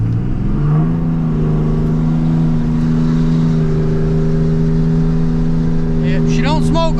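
A 6.7 Cummins diesel pickup truck with a Fleece 63mm Cheetah turbo pulls hard, its loud, steady engine drone and rising whine close by and filling the whole stretch, with a voice in the cab underneath.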